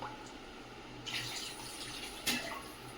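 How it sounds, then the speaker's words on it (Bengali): Water pours into a curry cooking in a pot, a soft running splash that rises briefly twice over a quiet background. "আর একটু জল দাও বাবা।"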